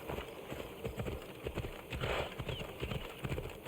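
Rapid clip-clop of a galloping horse's hooves in Assassin's Creed Odyssey, set in ancient Greece, close and steady throughout, with a brief whinny and no talk.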